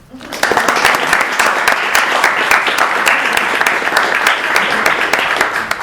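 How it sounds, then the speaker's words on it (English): An audience at an evening business networking event gives a round of applause, loud close clapping that swells in quickly and continues steadily, with some voices mixed in. "So can we have a round of applause for YE Georgia?"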